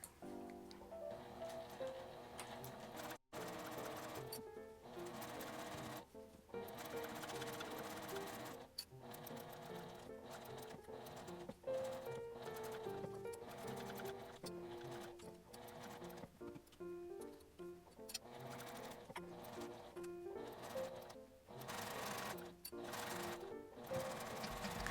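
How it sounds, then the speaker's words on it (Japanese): A sewing machine stitches the corners of a fabric face mask in short runs of a few stitches, with brief pauses between bursts of close, steady mechanical whirring and clatter. "ちょっと角の難しいところは3つずつミシンを動かします。"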